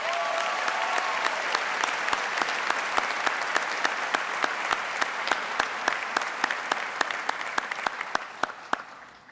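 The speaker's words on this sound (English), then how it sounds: "Let us all join in a round of applause for Amel and her contribution to our students" A commencement audience at the University of Michigan School of Public Health ceremony applauds in a dense, steady roar of clapping. A few sharp, louder individual claps ring out above it before the applause fades at the end.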